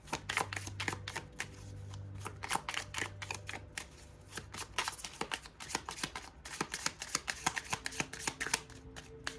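Tarot cards are shuffled close up in a quick, steady rhythm of soft riffling slaps and flutters, repeating continuously without pause and with no talking.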